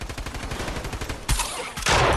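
Gunfire from the battle royale game Fortnite: two sharp, loud bursts of shots cut in over a busy, rhythmic game soundscape, the second burst sustained and dense to the end.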